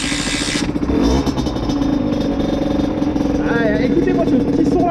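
A 50cc motorcycle fires up and runs close by in Annecy, giving a buzzing, rattly engine note with quick revs rising over the idle.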